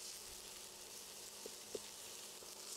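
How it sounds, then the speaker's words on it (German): Tomato paste roasts briefly in a pan for Imbiss-style schaschlik, a faint steady sizzle with a couple of small pops, no voices. "Und da gebe ich das Tomatenmark hinzu. Und das röste ich jetzt ganz kurz mit an"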